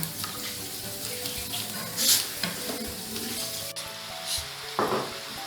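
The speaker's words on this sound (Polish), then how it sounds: "Do podsmażonej cebulki wsypujemy pokrojone pieczarki." Sliced mushrooms tumble into onions frying in butter in a pan, setting off a steady close sizzle with stirring scrapes, a brief louder hiss around the middle and another flare near the end, with no one talking.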